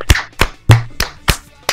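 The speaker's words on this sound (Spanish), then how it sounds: "Un aplauso." One person claps six times at a slow, even pace, close and loud, during a Spanish-language podcast recording, with quiet room sound between the claps.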